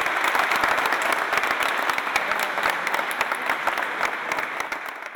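A large crowd applauds a new push-up record holder with dense, sustained clapping that stays loud throughout and fades only slightly toward the end.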